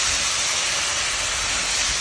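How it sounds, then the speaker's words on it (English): A 50 lb steak searing on a hot flat rock, giving off a loud, continuous broadband hiss of sizzling fat that holds steady throughout, with no talking. "So let's sear that sizzle."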